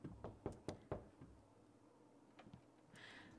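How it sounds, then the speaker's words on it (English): A Sims character knocks on a door in The Sims 2: a quick run of sharp, close raps, then a few softer taps and a brief bright game chime. "Can you just get up here and knock on his door?"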